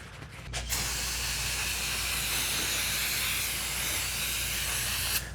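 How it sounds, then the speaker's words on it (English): Aerosol brake cleaner sprayed onto box van bodywork gives a close, steady hiss lasting about five seconds after a brief start, with no talking. "I'm gonna try some brake cleaner real quick"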